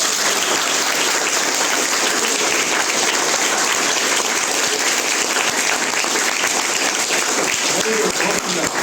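A classroom full of schoolchildren claps loudly and energetically for themselves, a dense, continuous burst of close applause with faint voices mixed in.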